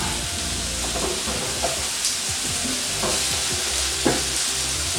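Sliced apples sauté in melted butter in a pan, giving a loud, continuous sizzle broken by several scraping stirs and a sharp utensil knock near the end, with no one talking.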